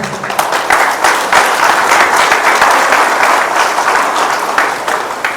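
Audience applause at a meeting in Salem, a loud, sustained roar of many hands clapping close by, steady throughout with slight swells.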